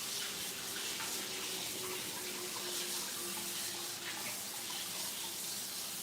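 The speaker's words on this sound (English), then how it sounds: "Just washing my hands" Hands being washed under a steadily running tap, a continuous splashing hiss of water filling a sink, heard close for several seconds with no talk.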